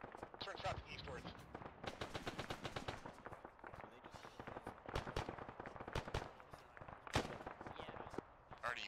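Heavy gunfire in an Arma-style military co-op video game, dense bursts of automatic fire and scattered single shots crackling steadily, with players talking over the shooting.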